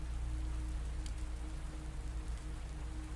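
Steady rain falls across stone ruins at Petra, a faint, even hiss of drops on surfaces with no voices.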